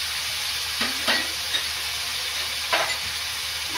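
Garlic, ginger and green chilli pastes with tomato sizzle steadily in a pan for a Bengali mutton liver curry, with a few soft scraping stirs of a spoon breaking through the constant hiss of frying.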